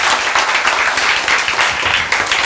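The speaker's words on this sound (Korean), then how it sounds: "박수." Audience members at a seminar lecture break into a dense, steady round of applause, loud and close, filling the whole moment without any talk.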